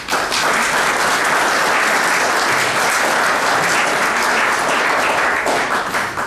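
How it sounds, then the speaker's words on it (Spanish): Loud, sustained applause from a large audience, dense clapping filling the whole stretch without pause. "driana Sáenz Servio y Carlos Cedillo Ortega, a quienes vamos a recibir con un fuerte aplauso."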